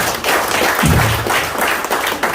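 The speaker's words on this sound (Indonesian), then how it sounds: "Tepuk tangan buat Mas Ahmad ya." Seminar audience at a business presentation in Surabaya clapping for a participant, a short burst of fairly close, dense applause with a voice briefly underneath.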